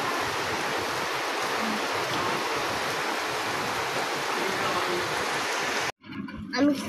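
Steady heavy rain pours behind a house, a dense continuous hiss that holds evenly for about six seconds before cutting off abruptly into a brief, quieter mix of softer sounds.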